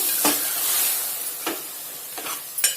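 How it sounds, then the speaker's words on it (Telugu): Marinated chicken sizzles in a pan while a spoon stirs it, a continuous hiss of frying broken by four or five sharp scraping strokes against the metal, close and fairly loud. "ఇప్పుడు మనం దీంట్లోకి నానబెట్టుకున్న చికెన్ వేసుకోవాలి వేసి మంచి కలపండి"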